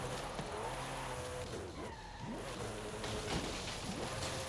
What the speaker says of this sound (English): Drifting in this game does not make any sense